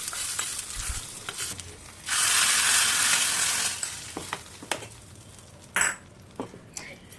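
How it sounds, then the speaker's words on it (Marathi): Hot tempering (phodni) poured over chutney gives a loud burst of sizzling that lasts about two seconds and then fades, followed by a few faint clinks and scrapes of a utensil. "आपली छान अशी फोडणी तयार झालेली आहे आणि अशी मस्तपैकी वरून टाकायची आहे"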